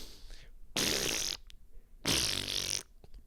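A man imitates a wet fart with his lips, giving two long, loud, sputtering bursts with a short pause between them.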